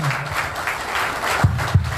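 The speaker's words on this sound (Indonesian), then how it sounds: "Dan tentunya juga kita beri tepuk tangan sekali lagi yang meriah sekali untuk Mas Gibran dan seluruh pengurus TKN." Audience applause at an Indonesian political campaign rally for the Indonesia Maju winning team, a steady wash of clapping with a couple of louder sharp bursts near the end.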